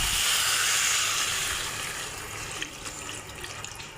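Water pours steadily from a vessel into a pot of katla fish curry with drumsticks in a home kitchen, a bright close rushing splash that eases off and thins toward the end.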